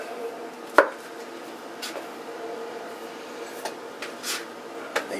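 A knife cutting through a cast iron pepperoni pizza, one sharp crunchy crack followed by faint scraping and cutting taps, close and quiet, with no talk.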